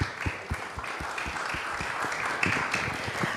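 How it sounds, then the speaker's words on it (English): Audience applause in a chapel after a talk on Medicare, a dense patter of many hands clapping close by, steady through the whole stretch with no voices over it. "Let's give her a round of applause."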